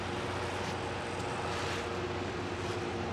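A small 1:43-scale Great Wall Toys 2115 RC Hummer creeps slowly over loose dirt and grass, its tiny electric motor giving a steady, even whine with a faint hum underneath and no pauses.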